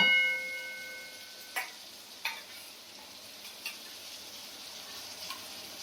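Garlic paste added to onions frying in a pan, a soft continuous sizzle with a few distinct scrapes and taps of a spatula stirring against the pan.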